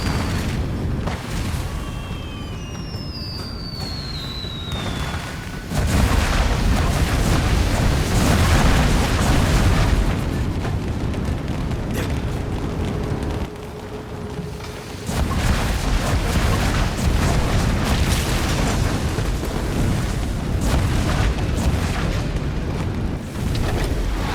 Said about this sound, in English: Why do we have so many fireworks just ready to blast?